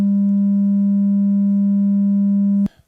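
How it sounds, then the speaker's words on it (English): A pure sine-wave tone from a synthesizer oscillator holds steady and loud at one pitch for over two seconds, then cuts off abruptly with a brief click. "an operator or an oscillator, they're both sine waves. They're pure tones"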